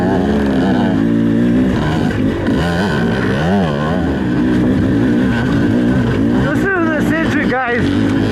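A 2024 Beta 300RR Race Edition two-stroke dirt bike crawls uphill at low RPM, its loud, close, burbling engine note wavering up and down, then revving in a few quick rising bursts near the end.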